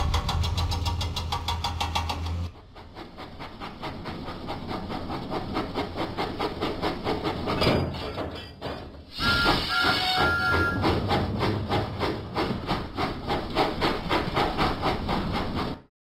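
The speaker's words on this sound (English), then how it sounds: "Huffing and puffing, Thomas set out for the steamworks." Cartoon steam locomotive Thomas from a Thomas & Friends video game, huffing and chugging steadily with hissing steam throughout, loud and close over game music, with a short break before a bright whistle-like burst.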